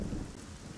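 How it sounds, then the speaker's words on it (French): Steady hiss of rain with a low rumble of thunder in the Gothic 4 Arcania video game, dense and continuous over a short stretch. "toujours la pluie."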